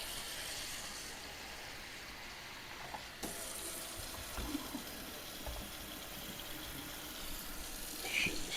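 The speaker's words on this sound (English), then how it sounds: "I'm gonna add some water." Water poured into a bowl of cream of rice in a home kitchen, a faint, steady running and splashing hiss that continues throughout, with a few small knocks.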